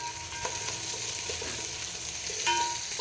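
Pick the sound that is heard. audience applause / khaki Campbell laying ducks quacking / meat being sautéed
meat being sautéed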